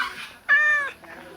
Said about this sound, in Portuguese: Os gatos vão fugir por ali?